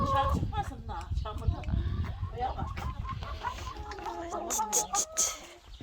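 Chickens clucking close by, a busy mix of clucks and squawks, with people talking over them.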